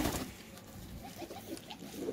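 Pigeons kept in a loft, some sitting on eggs, give soft, low cooing calls close by, faint and intermittent against a quiet background.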